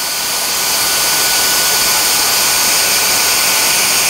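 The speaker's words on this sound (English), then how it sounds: "I'm going to go ahead and hit the max button, and that's going to turn up the suction a little bit more." A Dyson DC44 cordless stick vacuum runs on max suction mode, giving a loud, steady high-pitched whine and rushing airflow that continues without a break, with no talking.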